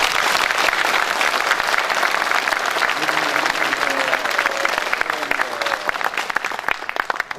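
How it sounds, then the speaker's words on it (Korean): An audience at a political event in Jeonbuk claps in welcome, a loud, dense round of applause sustained throughout, with faint murmuring voices mixed in. "옆에 계신 내빈 분들과 인사하시면서 서로 박수로 환영해 주시면 감사하겠습니다"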